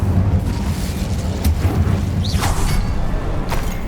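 A fire spell cast in Hogwarts Legacy lets off a heavy rumbling boom with a whooshing flare and a couple of sharp pops, sustained and fairly loud with no speech.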